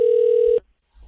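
A steady telephone keypad tone from the star key being pressed, one sustained beep of about half a second that cuts off abruptly, followed by near silence and a faint low rumble.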